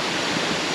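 Huge Sungai Pandan waterfall in Kuantan, Pahang, Malaysia, heard as a brief, dense, steady rushing roar of falling water, close and loud, with no talking.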